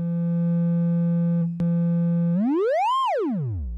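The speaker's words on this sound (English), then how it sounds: "we can hear the sine wave." A pure, steady sine-wave tone from a Make Noise DPO synthesizer oscillator holds one pitch, briefly clicks, then sweeps sharply upward and falls away.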